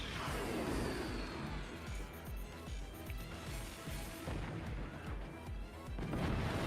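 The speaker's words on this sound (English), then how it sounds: "cannon to soften up with laser follow through is devastating" Cannons fire in the Forts real-time strategy game, a rapid series of booming shots and impacts, fairly faint and continuous.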